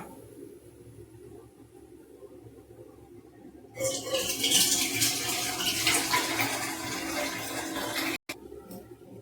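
A steady rush of water pouring into a pot of sambar, starting abruptly and running for several seconds before stopping.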